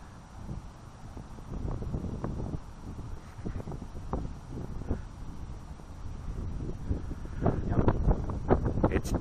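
Strong gusts of high wind buffet the microphone outdoors during a drone flight, a steady roaring rumble with louder thumping surges toward the end.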